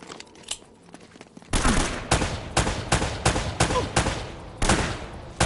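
Rapid bursts of gunfire from the video game Uncharted, loud and close, with repeated sharp shots in a steady fusillade after a brief quieter lead-in.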